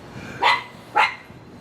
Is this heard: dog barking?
yes